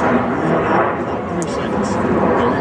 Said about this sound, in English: these airplanes are pretty advanced